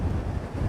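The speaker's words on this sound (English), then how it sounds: "I'm just trying to watch where these waves come in" Rough surf and strong wind buffet a rocky coastline, a loud continuous low rumble of waves with wind noise hitting the microphone, no voices.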